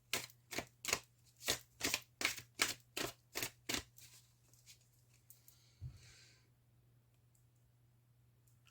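Deck of cards being shuffled and cut, a quick series of about ten crisp riffling snaps in steady rhythm, then a softer shuffle and a light tap before quiet, close and fairly faint.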